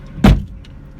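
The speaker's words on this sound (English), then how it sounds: "If you shut your door, there you go." A Ford Focus Mk2 car door shuts once with a single solid, close thud inside the vehicle, followed by quiet cabin hum and no talking.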